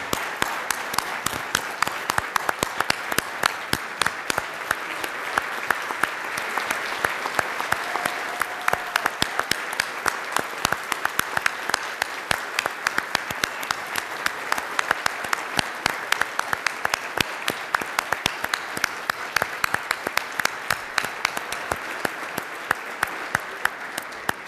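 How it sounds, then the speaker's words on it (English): A large crowd at Portsmouth, Virginia's 2015 State of the City address gives sustained applause for wounded warriors from Portsmouth Naval Medical Center, with dense, steady clapping that lasts throughout. "So let's give them a round of applause."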